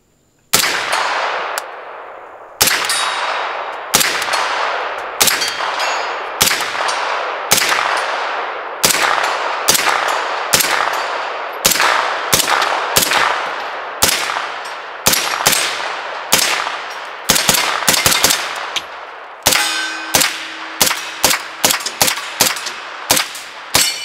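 MP5 firing outdoors in a long string of sharp single shots and short bursts, with brass casings clinking as they eject, loud and close, no talking.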